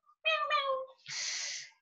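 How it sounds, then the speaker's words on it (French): A house cat gives a clear, close meow, a short tonal cry followed by a breathy hiss-like tail, alone in a quiet room. "On entend mon chat qui miaule."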